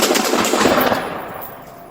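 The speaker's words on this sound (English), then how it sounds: "Shots fired, shots fired." Rapid burst of gunshots fired during a police confrontation with an armed teen, loud and dense at first, then trailing into echoing reverberation.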